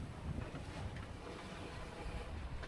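A sailboat under way at around 6.5 knots in a rolling sea off French Polynesia, with steady broadband rush of wind, water and hull wash filling the scene, constant and fairly loud with no talk.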